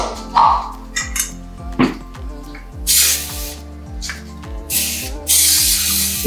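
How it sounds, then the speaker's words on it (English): Short hissing bursts from a cooking oil spray can into a pan, two or three of them, over steady rhythmic music in the background. "And I'm going to spray it as well."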